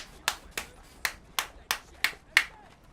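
A single person claps slowly and steadily, about seven sharp, separate claps at an even pace, close to the microphone with a quiet room behind.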